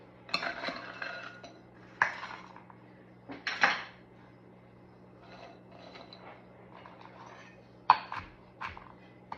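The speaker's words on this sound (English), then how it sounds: "now I'm going to take a 1/2 cup of pecans and I'm going to chop them coarsely" A knife coarsely chopping half a cup of pecans on a board, heard as a few scattered, close, clattering cuts and knocks with quiet pauses between them.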